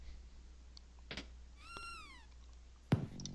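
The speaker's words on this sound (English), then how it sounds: "And we get to see Chrono's cat again." Chrono's cat from the Chrono Trigger video game gives a single short, rising-then-falling meow, fairly soft, over quiet background game sounds with a few faint clicks.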